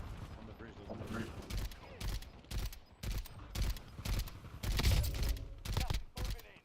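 Video game gunfire: repeated bursts of rapid shots in irregular clusters, loud and close, with mechanical clacks between them and voices talking underneath.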